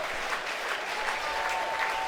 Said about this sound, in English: Crowd coming to life here with 2 away, the 1-2.